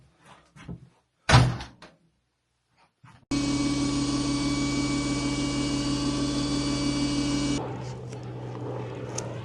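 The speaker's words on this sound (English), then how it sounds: "Key in the door, it must be mine." A key works the lock of a glamping pod door in the Hebrides and the door opens, giving light scrapes, a sharp knock, then a long, steady whooshing hum from inside that eases near the end.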